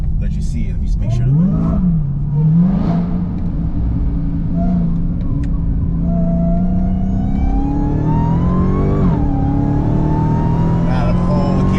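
A Dodge Hellcat in track mode takes a curve with a loud, close engine drone that rises and falls with the throttle, supercharger whine climbing through the pull, and a voice talking over it.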